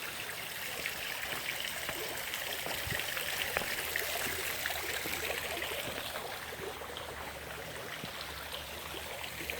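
Steady water trickling and splashing at a landscaped front entrance of a house in Weber Woods, Naples, Florida, a continuous gentle flow heard alone at moderate distance.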